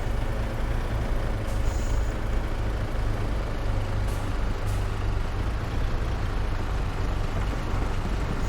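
A truck idles with a steady low diesel rumble in Farming Simulator 22, with short hissing air-brake releases breaking through a couple of times over the constant engine drone.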